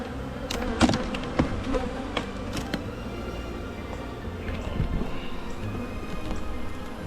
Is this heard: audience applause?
no